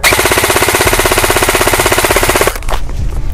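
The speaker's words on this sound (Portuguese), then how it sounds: "tanto no semiautomático quanto no full auto." A Rossi 416L Neptune airsoft rifle fires 0.28 g BBs on full auto at a 20-meter target, giving a loud, close, steady mechanical rattle of rapid shots for about two and a half seconds, then stopping.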